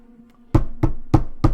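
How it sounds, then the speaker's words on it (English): Four firm knocks on a door, evenly spaced and close, each a sharp hollow thud ringing out after a quiet lead-in with a faint hum. "you knock on the door, I'm assuming."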